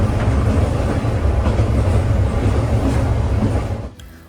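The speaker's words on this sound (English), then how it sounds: "it was so nice to have so much space on the steam train" Isle of Man steam train rolling along with a steady, loud low rumble and rhythmic rail clatter, cutting off abruptly near the end.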